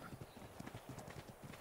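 Horse hooves clip-clop in a quick, even rhythm in the ARK video game, a green horse trotting at moderate distance, the beats soft and steady without speech.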